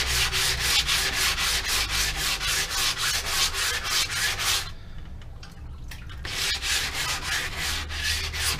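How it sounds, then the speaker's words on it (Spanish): Rapid rhythmic scraping of sandpaper rubbed back and forth up close on a car grille, pausing briefly midway before the strokes resume. "Vamos a estar lijando con esta."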